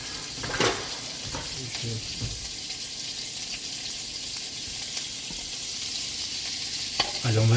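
Seitan pieces fry in vegan butter in a pan, a close continuous sizzle broken by clinks and scrapes as they are turned over, with light handling noises throughout.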